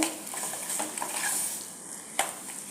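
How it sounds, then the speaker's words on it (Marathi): Eggplant being stir-fried in a pan for Maharashtrian vangyache bharit, with steady soft sizzling and scraping as a spoon stirs and breaks up lumps, plus a few sharper utensil knocks against the pan. "असं परतताना वांग्याच्या काही गाठी राहिल्या असतील तर त्या अशा मोडून घ्यायच्या"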